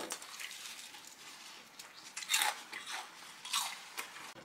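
Crunchy deep-fried squid bitten and chewed up close at home: several sharp, crackly crunches in irregular bursts, loudest near the middle, over a quiet background with no talking.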